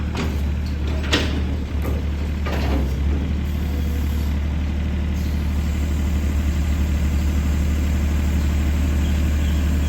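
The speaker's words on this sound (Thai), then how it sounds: "เครื่องยนต์ยันมา3สูบ" A Yanmar V3-5B wheel loader's three-cylinder diesel engine runs steadily nearby, a deep constant idle rumble with a few clanks at the start.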